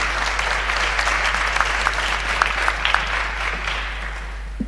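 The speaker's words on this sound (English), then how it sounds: "A big applause to Michael, please." Audience applause at a startup pitch event, a broad steady patter of many hands clapping at moderate loudness, with a low electrical hum running beneath it and tapering slightly near the end.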